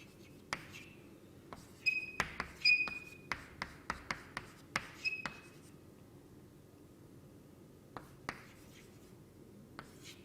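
Chalk or marker writing on a board during a mineralogy lecture: a series of sharp taps and short scratchy strokes, close and fairly loud, with quiet pauses between them and no talking.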